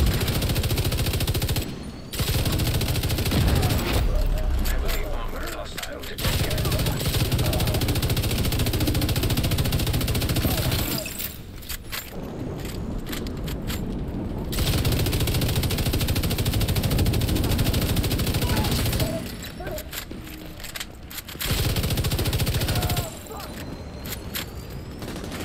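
LMG machine gun firing in the shooter video game The Division 2, long sustained bursts of dense automatic fire separated by short gaps for reloading, loud and continuous, with a person talking over parts of it.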